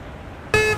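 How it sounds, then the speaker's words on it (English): A passing car honks its horn at a UAW picket line during the GM strike, one sharp, loud blast of about a quarter second over quiet traffic hum. "we get a lot of honks all day long"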